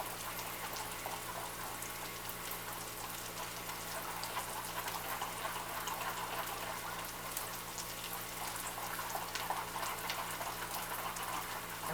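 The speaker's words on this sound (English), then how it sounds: "And we're stirring up the mustards with," A mustard and minced garlic sauce with yellow onion, olive oil and butter cooking in a pan: a quiet, steady sizzle with a faint low hum underneath, alone with no talk.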